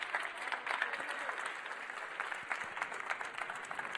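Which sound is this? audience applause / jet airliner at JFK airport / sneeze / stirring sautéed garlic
audience applause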